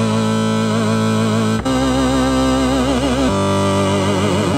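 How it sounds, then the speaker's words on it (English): Music from a SID chip synthesizer driven by custom code: loud, buzzy retro tones with warbling vibrato and shifting notes in a continuous chiptune phrase. "this is the SID chip code and it sounds like this"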